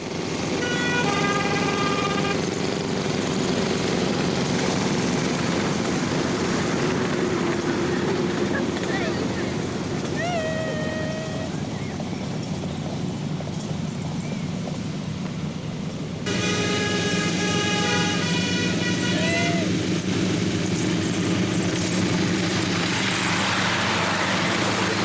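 A 40-horsepower miniature railway locomotive on the Mardyke line powers away from Lakeside station as part of a quadruple-header, making a continuous loud engine roar with whining tones over it.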